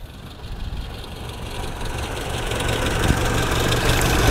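A Talbot Solara GLS engine idles on LPG, a steady low rumble with faint knocking and vibration, close by and alone, slowly rising slightly in loudness.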